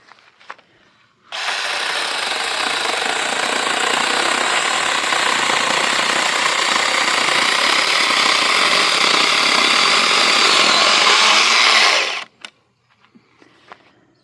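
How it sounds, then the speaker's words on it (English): A powered saw cuts through a big dry log, a loud, steady buzzing roar that starts abruptly, holds for about ten seconds, then stops. "I'm going to cut on this big one."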